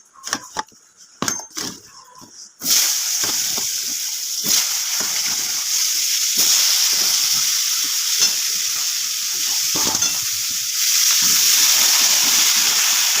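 After a few utensil clinks, radish and potato pieces hit hot oil seasoned with white cumin, bursting into a loud, close, sustained sizzle that crackles on steadily with no voices.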